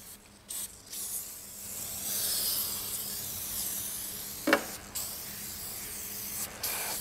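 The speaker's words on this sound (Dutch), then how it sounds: "Sprayen we de fiets in" An aerosol can spraying cleaning foam onto a bicycle, a long steady hiss lasting several seconds with brief pauses and short bursts at the start and end, close and alone.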